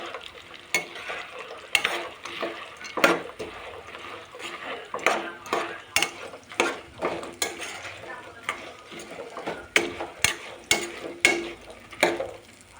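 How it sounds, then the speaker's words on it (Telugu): Fried raw banana pieces tossed in hot oil with onions, a soft sizzle under repeated clanking stirs of a ladle against the pan, spaced irregularly, with a voice faintly present. "ఫ్రై చేసుకున్న ముక్కల్ని ఆయిల్లో వేయించుకుందాం"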